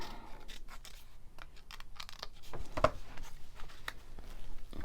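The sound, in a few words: scissors cutting lace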